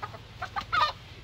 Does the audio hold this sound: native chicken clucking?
yes